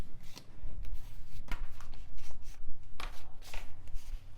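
A paper cutter slices through paper tags with a rapid series of crisp, close chopping strokes at an irregular rhythm, with soft rustling between them and no talking.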